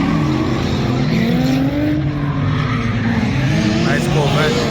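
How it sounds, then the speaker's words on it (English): A Corvette drives past at a car meet, its engine a loud, close, steady roar whose pitch wavers and shifts as it goes by, with crowd noise beneath. "Nice Corvette."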